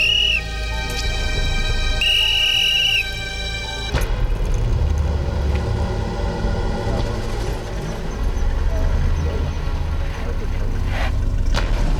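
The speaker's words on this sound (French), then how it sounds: "Sifflet." Sharp whistle blasts from an ecoguard patrol in the Gabon jungle: a few bright, loud tones in the first three seconds, then rustling activity and faint voices.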